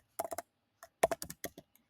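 Fingers typing a prompt on a computer keyboard, heard as two short bursts of crisp key clicks separated by a brief pause, close and fairly quiet, with no voices.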